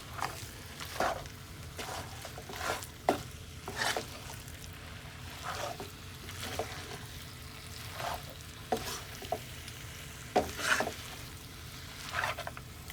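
Kappa biryani, tapioca with meat, being mixed in a pan, with soft irregular scrapes and stirring strokes over a low background sizzle, fairly quiet and close.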